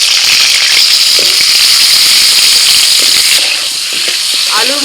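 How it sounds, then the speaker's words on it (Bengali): Potatoes frying in hot oil in a wok make a loud, continuous sizzle, with a brief faint voice near the end. "আবারও কড়াইতে তেল দিয়েছি এবার আলু ভেজে নেবে"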